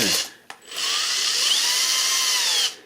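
A power drill drives screws into a new electrical outlet in a basement: a short burst, a brief pause, then a steady whirring run of about two seconds that winds down, close up with no talking.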